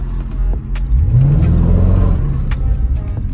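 A Range Rover SVR engine revs loudly and close by, its deep rumble climbing in pitch and holding before easing off, with sharp crackles over the top and no talking.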